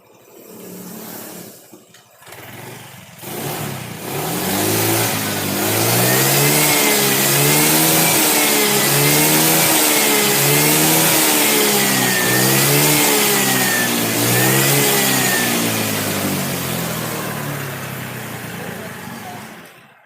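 A Honda Vario Techno scooter with overdue oil and a cracked engine case, smoking when throttled, revs repeatedly in loud, close, rising and falling surges over a steady engine drone before easing off.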